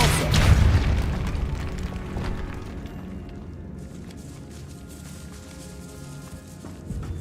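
A Repulso spell blast from the Hogwarts Legacy video game lands as a loud booming burst, then fades into a lingering rumble with scattered crackles over several seconds.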